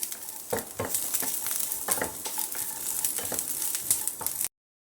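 Sliced onion and coconut roasting in a little oil in a pan until golden give off a soft sizzle, broken by repeated scraping stir strokes of a spoon against the pan.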